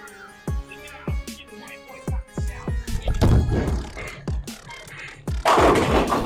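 Repeated shots ring out from a Typhoon air gun at a target, sharp close cracks coming one after another in an irregular rhythm, some followed by thumps and clatter, with no talking.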